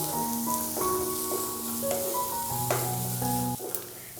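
Onions sauté in a pan with a soft steady sizzle and occasional stirring, while sustained tonal notes like background music play over it.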